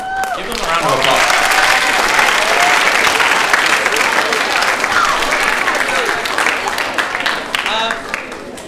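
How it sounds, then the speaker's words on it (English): Loud, sustained applause from an audience for middle school student musicians at an honor band festival rehearsal, dense clapping that swells early, holds, then thins toward the end, with scattered voices and cheers mixed in. "Give them a round of applause."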